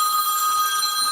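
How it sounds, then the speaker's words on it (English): A mobile phone rings during a live stream about a home garden, a steady electronic tone with bright sustained harmonics filling the short moment, faint and unbroken, with no talk over it. "I have my phone turned down and it keeps ringing."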